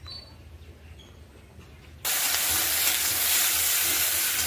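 Food dropped into hot oil in a kadai erupts into a loud, dense sizzle halfway through, after a quiet kitchen stretch, and keeps hissing steadily to the end.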